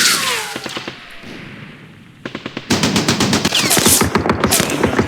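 Heavy gunfire in the Arab-Israeli war strategy game Campaign Series Middle East, with scattered shots giving way to sustained loud machine-gun bursts.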